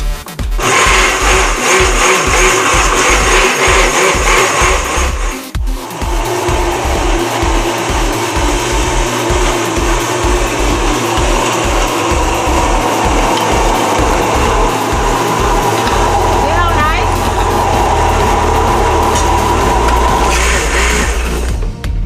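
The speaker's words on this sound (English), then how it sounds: "Now you keep on doing it until you blend everything." Kitchen blender whirring through sofrito ingredients, loud and close, pulsing in rapid bursts for several seconds, pausing briefly, then running in a steady sustained grind that shifts pitch as the mixture breaks down.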